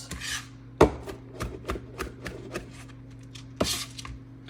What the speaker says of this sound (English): the tip of my knife never leaves the cutting board. Chop this up as fine as you like it